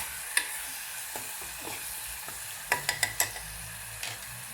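Prawn curry ingredients fry in hot oil with a steady soft sizzle, broken by a few sharp scrapes and clinks as a spoon stirs the pan, the strokes clustered near the middle.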